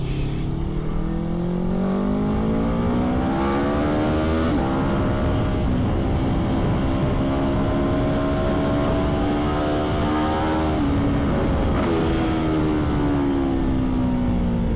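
Aprilia X-GP racing motorcycle ridden hard on a track, its engine revving loud and continuous for the whole stretch, pitch climbing and dropping through repeated gear changes with no voices over it.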